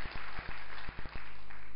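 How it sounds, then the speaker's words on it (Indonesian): A church congregation at a live-streamed service claps, a few loud, distinct claps over a steady low hum, the room sound briefly cutting in and out between them. "Berikan tepuk tangan yang meriah buat Allah yang baik"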